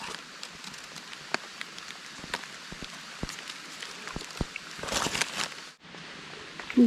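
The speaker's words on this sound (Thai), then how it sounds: "ฝนเริ่มลงเยอะแล้วเจ้าพี่น้อง" Rain falling on a high mountain forest, a steady soft patter with scattered distinct drops striking leaves and surfaces nearby, growing briefly heavier toward the end.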